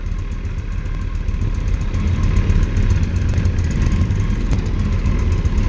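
A motorcycle with a sidecar runs outdoors, its engine a steady, rough mid-pitched drone throughout, fairly close and unbroken, with a few faint ticks over it.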